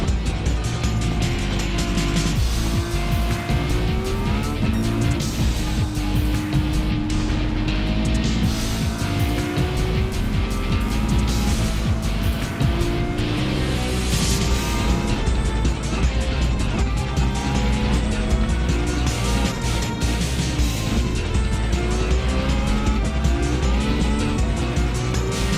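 A race car laps a racetrack in a Challenge Series event, engine revving up and down through gear changes with tire squeal, loud and continuous from onboard with no talk.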